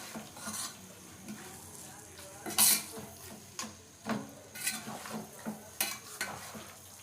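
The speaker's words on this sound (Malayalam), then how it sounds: "മിക്സ് ചെയ്തെടുക്കാം." Mughlai biryani masala is stirred and fried in a pan, with a soft sizzle under repeated scraping and clinking of a spoon against the pan in irregular strokes, close by.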